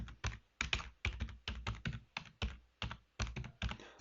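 Computer keyboard keys typed in short bursts, crisp clicking strokes in uneven clusters, close and clear with no talking.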